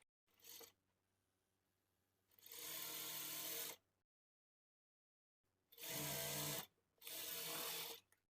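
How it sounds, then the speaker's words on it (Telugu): A sewing machine stitches a blouse shape belt in short and longer rapid whirring bursts, loud and close, with silent pauses between runs. "ఇప్పుడు ఇక్కడ నుంచి స్టార్ట్ చేసుకొని పావించి మార్జిన్ తో స్టిచ్ చేసుకోవాలి."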